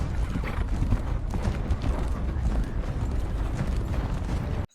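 Horse hooves clop in a busy, noisy scene from a medieval fantasy drama, with irregular hoof strikes buried in dense low rumble and rattling gear throughout.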